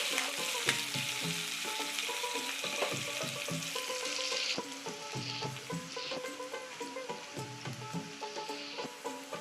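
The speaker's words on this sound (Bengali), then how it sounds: "এই যে প্রায় পেঁয়াজটা ভাজা শেষ" Steady crackling sizzle of onions and green chilies frying in hot oil until brown, with occasional stirring clatter and scraping of a utensil against the pan.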